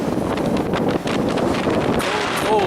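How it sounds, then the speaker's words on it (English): Strong, cold winter wind at around minus ten degrees roars steadily and loudly across the microphone by an icy shore, constant buffeting rumble throughout with faint brief tones near the end. "when it's already -10 and then you get a wind like this"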